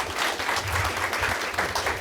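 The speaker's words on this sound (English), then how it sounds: "I think a round of applause would be totally appropriate for him." An audience at a monthly community meeting in Tulsa claps steadily for a volunteer, a dense, even patter of hands filling the room without pause.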